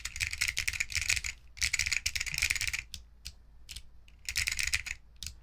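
Typing on an Alopow resin-case keyboard fitted with Matias clicky switches: close, crisp bursts of rapid keystrokes with short pauses between runs and a few isolated single clicks.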